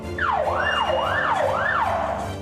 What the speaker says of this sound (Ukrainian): Відразу після швидкої до будівлі підкатує пожежна машина.